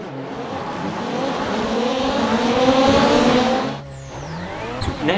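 Global Rallycross cars lap in iRacing, a loud continuous engine drone with rising revs and a tire squeal before it drops off sharply near the end, then a brief quieter tail.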